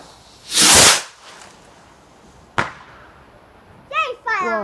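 A firework rocket launches on bonfire night with a loud whooshing hiss, followed moments later by a sharp crack; children's voices chatter and shout toward the end.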